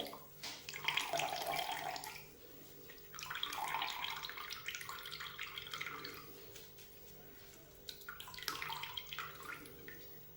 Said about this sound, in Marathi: आता यातील पाणी आपल्याला व्यवस्थित निथळून घ्यायचं आहे